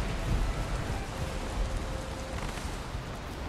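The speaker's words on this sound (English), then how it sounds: "Wow, it is raining very hard." Heavy rain pours down in a video game, a steady dense hiss with low rumbling underneath, loud and continuous with no voices.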